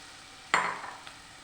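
Green peas and cauliflower drop into a pan of frying carrots for samosa filling, a sudden loud sizzle burst that fades over a second, with a faint stir clink after.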